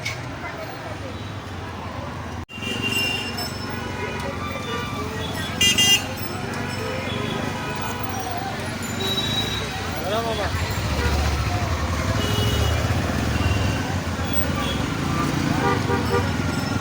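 Street traffic jammed on a road in Uttara, blocked by school-run vehicles, with a steady rumble of engines and short horn toots rising now and then, while a person talks over the scene.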